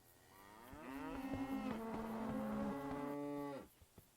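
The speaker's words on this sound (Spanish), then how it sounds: "Son vacas, obviamente." Cattle in the video game IzzyWuff: The World After give one long, loud, drawn-out moo lasting about three seconds, followed by a quiet tail with faint clicks.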